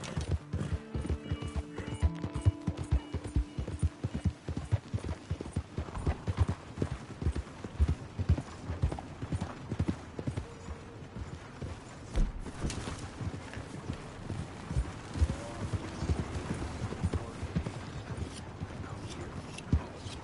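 Steady clip-clop of horse hooves walking in Red Dead Redemption 2, rhythmic and fairly close, with occasional snorts and faint voices in the background.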